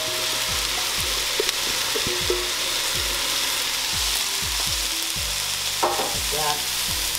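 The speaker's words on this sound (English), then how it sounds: "Make sure you fry it. Just continue stirring this." Rice frying in a little oil in a pan for a Somali dish, a steady close sizzle broken by repeated scraping, knocking stirs of a spoon against the pan.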